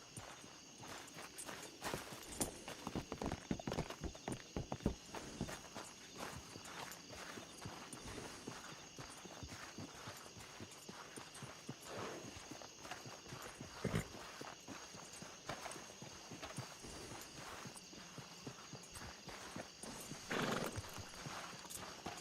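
Hooves clip-clop at a steady walking pace in a Western ranch video game, close by, with an occasional horse whinny and snort over a faint background hum.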